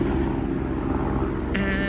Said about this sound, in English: that's a aeroplane because I am in a park, so you probably can hear it a lot